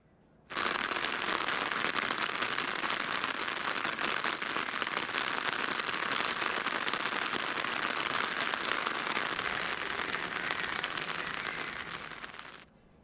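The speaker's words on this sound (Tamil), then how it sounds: "அதிகாலை முதல் தொடர்ந்து பெய்த மழையால் வெப்பம் தணிந்து குளிர்ச்சியான சூழல் நிலவுகிறது" Steady summer rain pours down in the Sirkazhi area of Mayiladuthurai district, Tamil Nadu, a dense continuous hiss of drops on surfaces that holds evenly loud for the whole stretch, with no voices.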